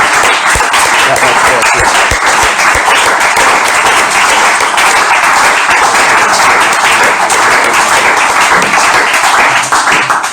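A congregation at an evening prayer service claps and applauds the Lord, dense and loud, sustained for about ten seconds, with voices mixed in the crowd noise.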